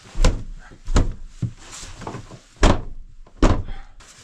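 A door in an abandoned property is pushed and tried, giving several heavy thunks and rattling knocks at irregular intervals, loud and close.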